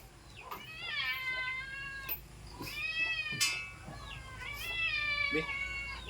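Several cats at a rural Philippine farmhouse meow in a string of drawn-out, wavering cries, some overlapping, close by with faint background noise.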